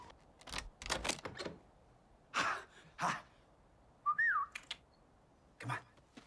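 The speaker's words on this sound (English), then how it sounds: "the whistle with the clicking sound" A cartoon fox's whistle with clicking from the stop-motion film Fantastic Mr. Fox, heard as a few short sharp clicks followed by a brief rising-and-falling whistled tone, then another click, against a quiet background.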